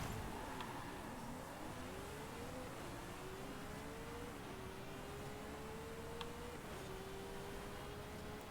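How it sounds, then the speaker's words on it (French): A car engine in the racing video game Forza Horizon 5 revs and climbs through gears in repeated rising sweeps, steady and fairly loud against a constant noisy bed, with no talk over it. "J'adore cette voiture, par contre. Pour le bruit qu'elle a."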